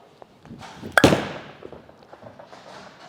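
A Storm DNA Coil bowling ball slowed to about 30 and thrown with spin, striking pins: one sharp loud crash of scattering pins, then a fading rattle and scattered clatter in a reverberant lane.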